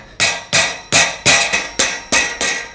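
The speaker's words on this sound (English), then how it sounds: "Then we'll tap these end caps on." End caps are tapped onto the low bed bars of a MicroSport Overland off-road tent trailer with eight sharp, evenly spaced hammer strikes. Each one rings briefly, close and loud.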